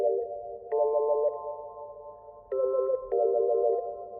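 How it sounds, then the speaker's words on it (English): A whistle preset from the Nexus plugin in a beat plays as a clean, synthetic, sonar-like tone, holding steady notes that step up and down in pitch over a faint low background hum. "So this whistle, funny enough, I got it from Nexus"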